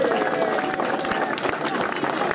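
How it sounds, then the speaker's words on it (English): Applause from an awards-night crowd honouring club supporters at an AFC Wimbledon event, dense steady clapping throughout with voices mixed in. "round of applause for the Callows, please."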